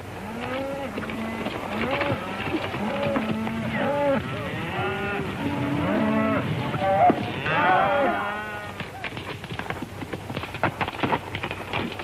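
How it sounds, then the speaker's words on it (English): A herd of cattle on the open range in the Old West lows and bellows repeatedly, many overlapping moos near and far, fading into a quieter stretch with scattered low calls. "It's a fine-looking herd of cattle."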